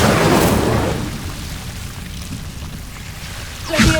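Incendio fire spell cast in Hogwarts Legacy, a loud whooshing burst of flame at the start that crackles and fades, followed by a sharp crackling flare near the end.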